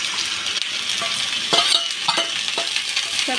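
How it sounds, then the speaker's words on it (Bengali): Onions being stirred and fried in a pan for a kachki fish curry, with a steady close sizzle throughout and several soft scraping stirs and light utensil clinks toward the end. "পেঁয়াজটা ভালোভাবে একটু নেড়ে ছেড়ে নিলাম"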